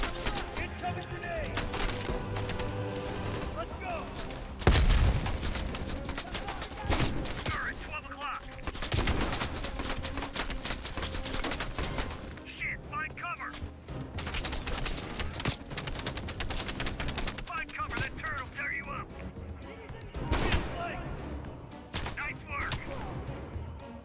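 Gunfire in the Call of Duty: Black Ops Cold War campaign, with dense bursts and heavy shots that keep coming alongside game music and effects, and a player talks through it.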